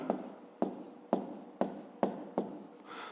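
Pen or pencil writing on paper during a fifth-grade geometry exercise, heard as six short scratchy strokes in a steady rhythm, each starting with a sharp tap and trailing off, close and fairly quiet with no talking.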